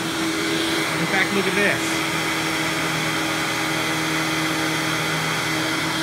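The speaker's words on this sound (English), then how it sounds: "Vacuum is very easy to push and pull." A Hoover Windtunnel Supreme U5458-900 upright vacuum cleaner runs with a loud, steady motor whine and airflow roar throughout, while someone speaks briefly over it.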